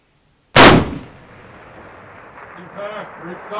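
Single loud, sharp report from a Cadex Defence .338 Lapua carbon hunter rifle fired outdoors at a distant target, followed by a long fading echo, then faint talk afterward.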